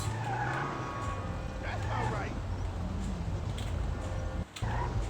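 Michael's car in GTA V being parked, engine revving with tyre squeals and skidding as it maneuvers, heard under ongoing talking.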